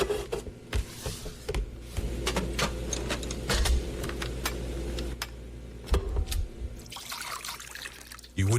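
Liquid pours and trickles with splashing and dribbling textures in a TV commercial, joined by scattered clicks and ticks, a steady close sound running throughout with no voices.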